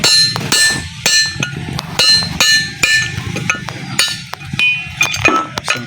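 Hand chisel struck repeatedly with a hammer to split a scrap aluminium automobile cylinder head, giving loud, close, sharp metallic clinks in an irregular rapid series with ringing tones between blows.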